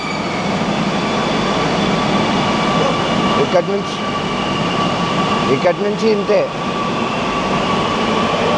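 A small Kochi metro station platform gives off a loud, steady hum of trains and ventilation, broken by brief bursts of people talking.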